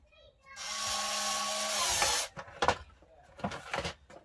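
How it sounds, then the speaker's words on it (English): A power driver whirs for over a second as screws go back into a DVD drive, a close steady whine followed by clicks and handling knocks. "Hit the screws back in."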